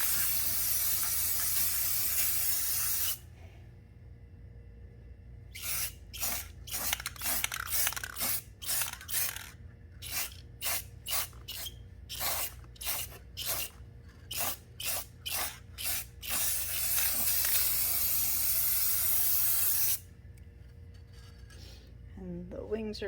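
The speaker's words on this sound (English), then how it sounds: "I'm just spraying the second side of her." A spray can sprays paint onto a wooden angel in loud hissing bursts: a long spray, then a rapid series of short pulsed squirts, then another sustained hiss, close up with no talking.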